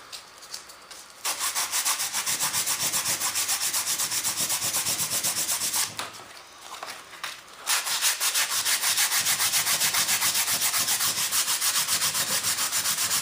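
Rhythmic, rapid rasping strokes of sandpaper work the fiberglass edges of boards for a large F-18 turbine jet model, loud and close, pausing briefly twice before resuming steadily.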